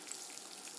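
An egg fries in coconut oil with a steady, faint crackling sizzle that runs evenly throughout, with no voices.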